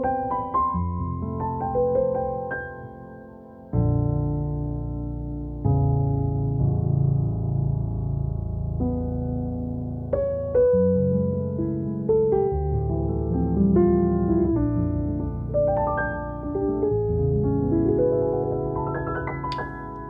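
Muted, soft-edged piano notes and chords played with a felt sordino pedal, a dampened, mellow tone, played slowly and gently, the notes blurring together with no voices.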